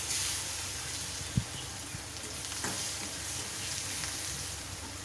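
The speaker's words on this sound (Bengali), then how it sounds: "এই মাছ ভাজারি তেলের মধ্যে আমি দিচ্ছি 1 চামচ কালো জিরে, রসুন কুচি" Chopped onion, black cumin seeds and minced garlic fry in hot oil in a pan, a soft steady sizzle running throughout with a small clack of utensil near the start.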